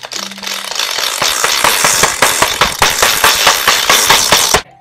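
A Nerf blaster fitted with a Worker metal flywheel cage V3 revs up with a rising whine, then fires a rapid, loud string of sharp mechanical bursts for several seconds before abruptly stopping.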